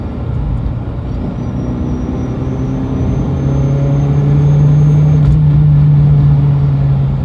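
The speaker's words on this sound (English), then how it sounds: "A little like air leak in the air intake. You can hear it like psheet." A 1997 Toyota RAV4J Touring two-door's engine idles and revs steadily and loudly, its drone rising midway with a sustained hum and a faint airy hiss from an air intake leak on top.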